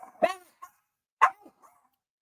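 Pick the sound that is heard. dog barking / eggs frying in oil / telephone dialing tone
dog barking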